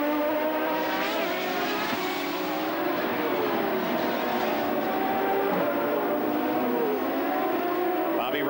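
A 1996 IndyCar race car at Mid-Ohio roars down the pit straight, a loud sustained engine drone with shifting pitch sweeps, steady throughout.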